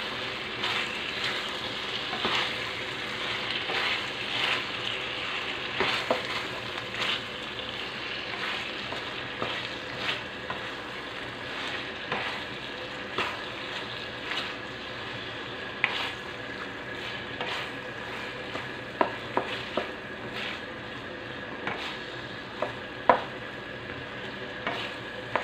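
Longganisa frying in a pan with ketchup is stirred, giving a continuous sizzle with scattered scraping and clicking from the utensil against the pan over a long stretch.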